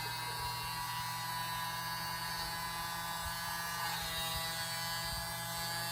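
A small electric mini blower pushes paint across a tiny 4 x 4 inch canvas, giving a steady, close motor whine with a constant buzzing hum that never lets up, and nobody speaks.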